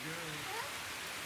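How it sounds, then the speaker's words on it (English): Rain falling outdoors makes a steady, faint broadband hiss throughout, with a soft voice barely audible underneath. "Oh, look at the rain."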